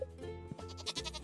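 A goat in the Stardew Valley video game gives short, wavering bleats, a couple of quick cries, set against soft background game music.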